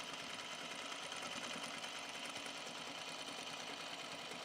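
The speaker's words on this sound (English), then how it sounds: "I don't think I've double stitched a back seam in a while." A sewing machine runs continuously while double stitching the back seam of a pair of Ash jeans, giving a steady, even hum with fast needle chatter, quiet and close, with no talking.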